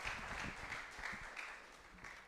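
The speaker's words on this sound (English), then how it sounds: "Give him a round of applause" A secondary school debate competition audience claps in a short, steady burst of applause, a continuous rattle of many hands at moderate distance that fades slightly toward the end.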